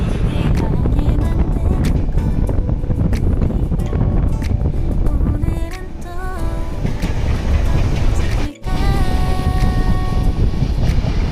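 A Jan Shatabdi passenger train running from Chaibasa to Howrah rumbles along with a continuous loud roar and rattling of carriages, briefly dipping before resuming its steady clatter.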